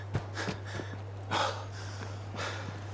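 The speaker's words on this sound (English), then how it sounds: "You can hear me panting right there." A person pants heavily after exertion in Fallout 4, with several quick, breathy gasps spaced unevenly over a few seconds. The breaths are close and moderately quiet above a steady low hum.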